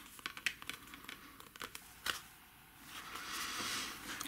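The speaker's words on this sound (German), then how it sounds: "Dann ziehe ich auch hier die Schutzfolie ab" Protective film peeled from a paper gift bag craft, a soft crinkling and tearing rustle with a few sharp crackles, then a longer steady hiss as the film pulls away, close and quiet.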